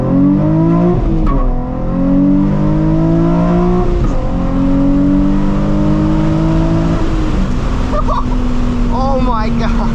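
A Nissan 350Z HR accelerates hard from first to third gear, its engine rising loud and close. Each climb is broken by a brief dip at the gear changes, and a voice comes in near the end.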